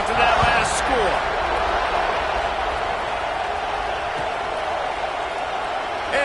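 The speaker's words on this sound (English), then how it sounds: "this crowd is buzzing after that last score." Football stadium crowd at an NCAA game, a steady broad roar of many voices buzzing just before a kickoff, loud and continuous throughout with a sharper burst near the start.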